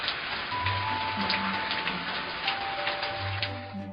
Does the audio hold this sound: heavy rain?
yes